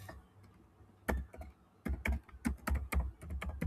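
Close, crisp keystrokes on a computer keyboard come in uneven bursts of quick taps with short pauses between them.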